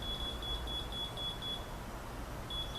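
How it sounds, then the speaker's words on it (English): A laser level's high electronic beep pulses steadily at a slow, even rhythm, pauses briefly, then resumes, with low background hum. "That's a slow beep."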